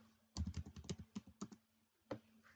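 Computer keyboard keys clatter in a quick burst of close, soft taps, then a few separate presses after a short pause, all quiet with no voices.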